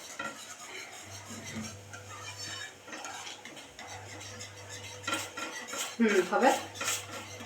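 Utensil scraping and clinking against a pot while stirring khandvi batter in a home kitchen, a soft repeated rub that builds to louder metallic knocks near the end, with brief quiet talk.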